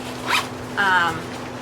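A zipper on the front pouch of a large lunchbox is pulled in two quick strokes, close and clear, with a short pause between them.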